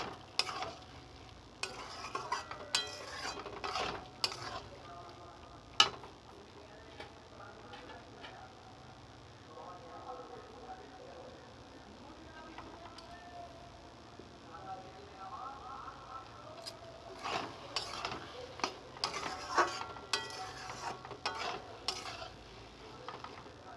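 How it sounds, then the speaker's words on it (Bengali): Lentils and potatoes are stir-fried in a pan, with a soft sizzle under repeated scraping and stirring of a spoon against the pan. The stirring comes in bursts, a few clanks stand out, and the noise stays low and close while a person talks. "ডালটা দিয়ে ভালো করে আলুর সাথে ভালো করে কষিয়ে নেব।"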